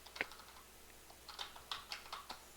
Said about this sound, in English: I'm typing it totally wrong.